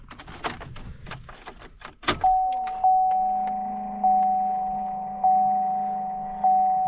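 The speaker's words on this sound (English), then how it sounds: "The pump does not sound happy." A pickup truck's fuel pump runs at start-up: keys jangle, then the engine catches with a thump, and a steady low drone continues under a warning chime repeating about every second, near and without talk.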